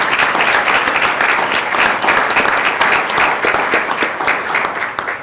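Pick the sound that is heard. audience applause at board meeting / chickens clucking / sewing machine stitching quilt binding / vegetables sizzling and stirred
audience applause at board meeting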